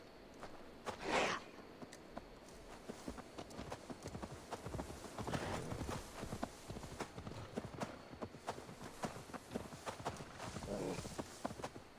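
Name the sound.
horse hooves clip-clop, from video game Assassin's Creed Valhalla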